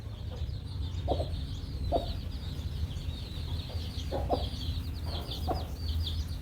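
Chickens cluck in short, scattered bursts, several spaced calls over a steady low rumble of farmyard background, with chick peeping faintly in the mix.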